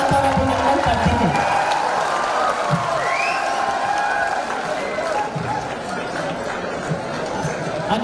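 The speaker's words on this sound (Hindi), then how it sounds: "जोरदार तालियों से हम आपका स्वागत और अभिनंदन करते हैं।" Loud auditorium applause greets CM Ashok Gehlot at a Babasaheb Ambedkar Jayanti event in Jaipur, a dense sustained clapping mixed with crowd chatter and some cheering, easing slightly toward the end.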